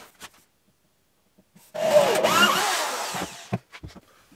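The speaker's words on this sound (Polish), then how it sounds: "Wiertarka." A single short burst of an electric drill whirring into wood while assembling a wall cabinet, rising and settling for about two seconds, with quiet clicks and handling noises around it.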